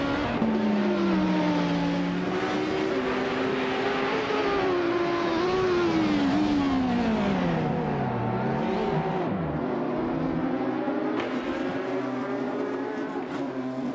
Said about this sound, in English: Okioke3 is leading the race in a 2017 Cadillac DPI, an LMP2 class car known for its speed and reliability.